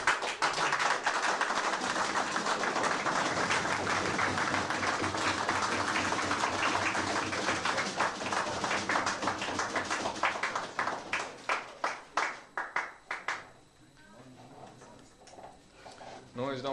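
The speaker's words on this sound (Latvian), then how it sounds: "Draudoši aplausi." Warm applause from an audience at a 1989 photo exhibition opening in Latvia, a dense sustained patter of many hands that thins into scattered claps and fades out near the end.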